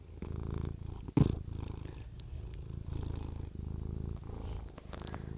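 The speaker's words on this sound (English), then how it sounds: "they're about to get some deep ASMR cat purring" A cat purrs close up in a deep, rhythmic rumble, each breath cycle pulsing steadily, with a brief thump near the start.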